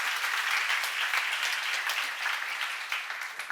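Audience at a church seminar applauding, a dense, sustained burst of clapping from many hands that stays loud and even throughout.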